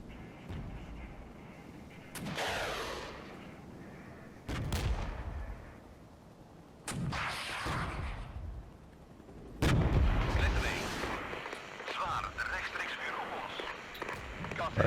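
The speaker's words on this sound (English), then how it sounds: "the Lynx is just going to be firing down the valley" Heavy booming cannon fire from a Lynx armored vehicle in the Regiments war game, several loud blasts spaced a few seconds apart with rumbling tails, mixed with other battlefield gunfire and a voice talking over it.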